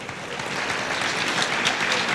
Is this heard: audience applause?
yes